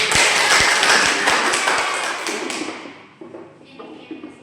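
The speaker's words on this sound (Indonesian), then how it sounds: "Ya, tepuk tangan." Elementary school pupils in a sixth-grade classroom clap their hands together, a loud burst of rhythmic claps that quickly thins and dies away.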